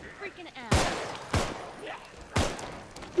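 Gunshots in the zombie video game Contagion: three loud, sharp single shots spaced about a second apart, each with a short decaying tail, with a voice speaking in between.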